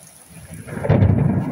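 Thunder from a strong night storm rolls in, rising from faint rain into a loud, deep rumble that fills the second half, with steady rain continuing underneath.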